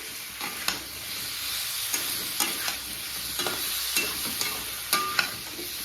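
Boiled taro is tossed in a pan with red-fried shrimp, sizzling steadily in oil. Irregular scrapes and clinks of a stirring spatula recur several times, up close and without any voices.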